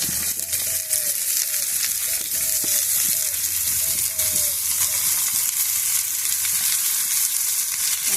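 Dried shutki fish and finely chopped potatoes fry in a pan, giving a steady, close, even sizzle with a dense hiss that holds throughout, and faint scraping stirs come through now and then.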